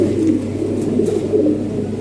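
Breeding pigeon pairs in a loft coo in soft, rolling low murmurs close by, a few overlapping calls over a quiet steady background.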